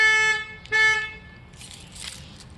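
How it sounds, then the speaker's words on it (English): A car alarm sounds the horn in two long harmonic blasts, the second cut short, followed by a softer hiss and rustle. "I think I set my alarm off."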